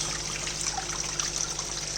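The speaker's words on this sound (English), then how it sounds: "So it's like a full waterfall. So the holes have worked." Water trickles down a small paludarium waterfall fed through drilled plumbing holes, a soft, steady splashing and dribbling up close with no voices.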